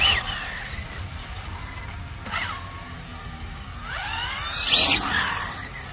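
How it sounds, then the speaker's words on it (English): An Arrma Infraction RC car's tires screech on a rough, gravelly surface outdoors, with a rising whine swelling near the end over steady gusting wind noise. "The tire's screeching."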